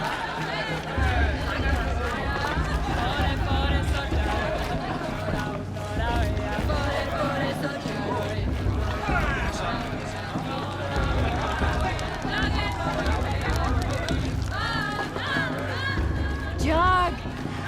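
An angry mob murmurs in Horizon Zero Dawn, a dense babble of many voices with shouts and footsteps running steadily throughout, loud and close, with individual voices speaking over it.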